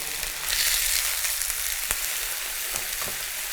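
A ribeye steak sizzles steadily in a frying pan just after being flipped, a loud, even hiss of frying with a few faint clicks and scrapes in it.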